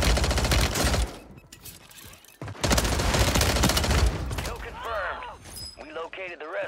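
Striker 9 submachine gun from Call of Duty on Rebirth Island firing in rapid sustained full-auto bursts, two long loud streams separated by a pause, then quieter distant gunfire and game sounds with someone talking over it.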